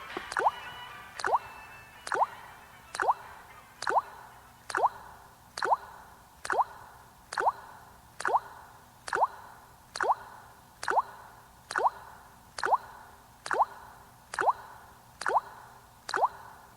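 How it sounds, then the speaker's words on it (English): Single water drops fall one after another in a slow, perfectly even rhythm, about one per second, each a crisp close plop ringing against a faint low hum, with no voices. "The ancient Chinese water torture. Good to the last drop."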